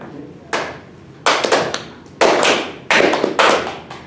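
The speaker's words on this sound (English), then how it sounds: "I will clap, very simple rhythmical pattern, and I want you to clap it back." One person claps a simple rhythmic pattern, sharp close hand claps in short clustered groups separated by brief pauses, with a faint room background between them.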